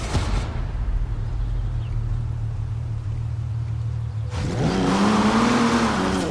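A Jaguar car driven in Forza Horizon 4, a steady engine drone and road rumble that swells into a louder, rising rev as the car accelerates near the end, with no voices.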